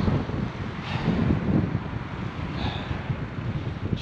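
Cold wind buffets the microphone outdoors near the Vistula riverbank at Puławy during a mountain bike ride, a continuous loud rumbling roar with gusty swells and no speech.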